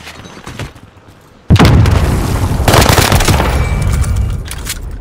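A frag grenade detonates in Call of Duty Warzone, a sudden loud boom with a long rumbling tail and scattered gunfire crackle after it, no voices.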